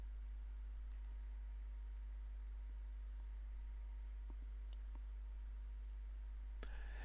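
A mouse click lands on the Save and Close button, one sharp faint tick over a steady low electrical hum, with a few other soft clicks scattered around it.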